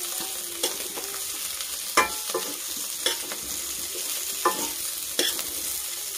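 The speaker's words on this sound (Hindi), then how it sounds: "इसी में मैं लाल मिर्च पाउडर को ऐड कर दे रही हूँ और इसको हम अच्छे से चला दे रहे हैं।" Potato chaat fries in a pan with red chili powder while a spoon stirs it, a constant close sizzle punctuated by several distinct scraping clacks at irregular intervals.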